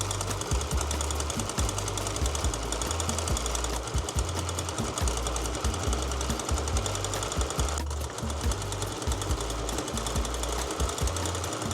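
Sewing machine running continuously along a long fabric strip for ties, a steady rapid mechanical chatter with a regular rhythmic thump underneath, close and unbroken throughout.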